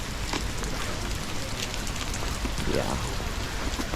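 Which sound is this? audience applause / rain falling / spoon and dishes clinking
rain falling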